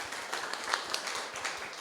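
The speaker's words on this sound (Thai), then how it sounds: "ปรบมือต้อนรับท่านหน่อยนะครับ" An audience at a Thai church service claps to welcome a visiting missionary, a soft, steady patter of many hands at moderate distance with no talking over it.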